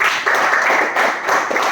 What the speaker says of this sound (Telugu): మ్యామ్ కూడా క్లాప్స్ కొట్టండి గట్టిగా.